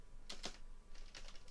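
Quick bursts of typing on a computer keyboard, a few close, crisp key clicks in two short clusters over steady background hiss.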